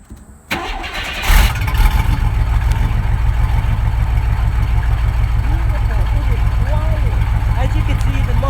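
A 1994 Chevy Astro van with a new muffler cranks and starts, then settles into a steady, loud, close idle with a low rhythmic engine throb that continues unbroken.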